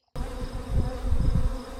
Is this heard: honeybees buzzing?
yes